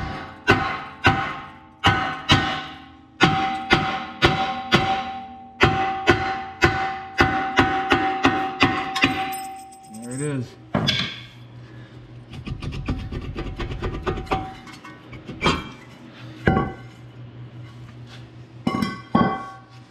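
A metal tool knocks against the rusted brake rotor of a 2016 Ford Edge, landing a rapid series of sharp ringing taps close up, then scraping and rubbing sounds with a few more knocks later.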